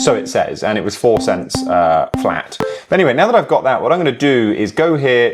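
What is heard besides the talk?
No everyday noises stand out.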